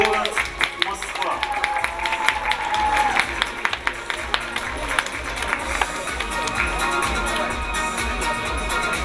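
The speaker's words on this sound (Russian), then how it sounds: "Поддержим аплодисментами призеров и 11-классников." Loud, sustained applause fills an award ceremony closing a school chemistry olympiad as the audience claps for the prize winners, a dense steady patter of many hands, with a voice heard faintly under it.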